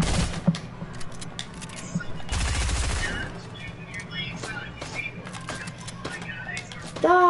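Gunfire in a shooter video game: scattered sharp shots, then a dense, loud burst of rapid fire midway, with game effects and a voice talking in the background.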